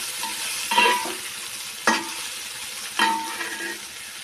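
Beef fry sizzling in a pan after ground pepper and fennel go in, a steady frying hiss broken by three short scraping stirs.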